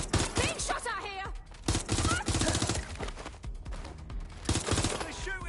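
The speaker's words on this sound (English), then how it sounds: "Being shot at here!" Gunfire in Watch Dogs Legion comes as dense bursts of shots and mixed game effects, with loud clusters near the start and again toward the end, layered under a busy, continuous background of other in-game sound.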